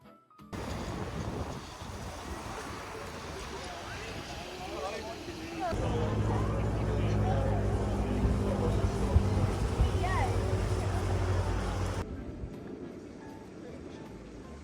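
Wind and water rush past a tour boat at sea off The Needles, Isle of Wight, then a low engine drone swells for several seconds before cutting away, with faint voices.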